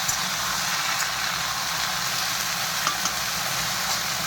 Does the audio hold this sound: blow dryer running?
no